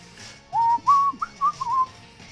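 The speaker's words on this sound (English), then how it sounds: "Remind me never to whistle on camera again." A person whistles a short tune of several bright, wavering notes in quick bursts, fairly close and clear, with faint background noise and no talk.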